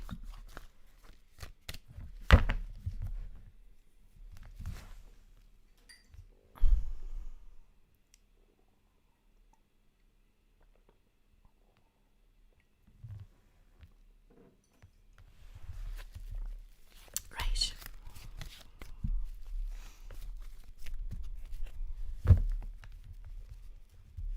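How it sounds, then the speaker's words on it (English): Tarot cards are shuffled in quiet bursts of soft clicks and riffling flutters, close but faint, with a long hush in the middle before the shuffling resumes. "Right, so I'm shuffling the cards."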